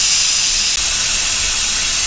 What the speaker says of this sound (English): pressure will be completely released